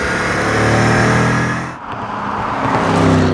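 A 2015 Dodge Challenger SRT Hellcat engine roars loudly up close, a deep rising rev that briefly dips and then surges again.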